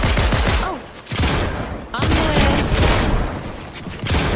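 Rapid bursts of video-game gunfire fill most of the stretch, loud and dense, with a few dull booms among the volleys. A voice can be heard faintly beneath the shooting.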